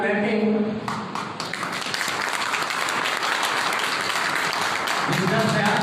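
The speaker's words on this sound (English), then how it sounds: "welcome by clapping" An audience at a school English Week closing program bursts into dense, sustained applause for several seconds, loud and steady, with a voice speaking briefly before the clapping and again as it dies down.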